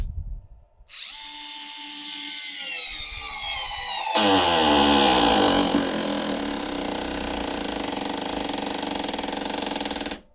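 A cordless screwdriver bought from AliExpress spins up at its maximum setting and drives a 55 mm screw, a steady high motor whine that turns into a louder, harsher grinding load as the screw bites in, heard alone and close.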